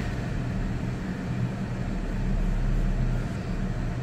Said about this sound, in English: I'll rev it up a little bit, let me see.